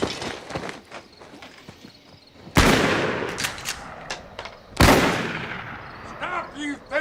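Gunshots in a film scene from Killers of the Flower Moon, two loud booming reports a couple of seconds apart ringing out over hoofbeats, rustling and faint background voices.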